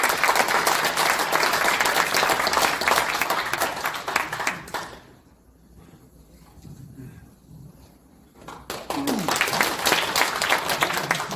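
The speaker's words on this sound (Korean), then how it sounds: "여러분 박수로 맞이하십니다." A crowd at a party candidates' rally in Sejong Hall applauds loudly to welcome the Seoul chapter chair to the stage; the clapping drops away for several seconds midway, then swells back up strongly.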